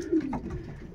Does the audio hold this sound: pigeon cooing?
yes